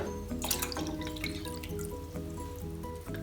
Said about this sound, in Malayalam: ഇതിലേക്ക് ഞാൻ വെള്ളമാണ് ചേർക്കുന്നത്